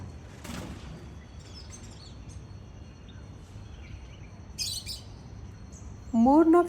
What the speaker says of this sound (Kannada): ಮೂರ್ನಾಲ್ಕು ಥರ ಪಕ್ಷಿಗಳು ಒಟ್ಟಿಗೆ ಬರ್ತವೆ